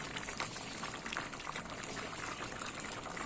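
Totapuri mango sugar syrup boils uncovered in a pan over a high flame, a faint, even, continuous bubbling hiss with no voices.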